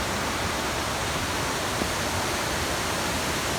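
A waterfall in a rocky gorge at Coed-y-Brenin, Wales, makes a dense, even rushing roar, close and constant with no breaks.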